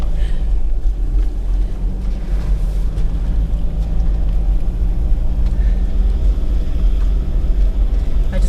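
4WD car climbing a rutted forest track, a loud continuous engine rumble with strong low drone and scattered knocks from the vehicle over rough ground, close and steady throughout.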